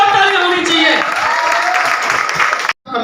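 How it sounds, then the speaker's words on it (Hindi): Audience at a motivational business meeting in Bombay Market, Umarvada, breaking into loud, sustained applause that fills the room before cutting off abruptly near the end. "जबरदस्त जबरदस्त, जोरदार ताली होनी चाहिए।"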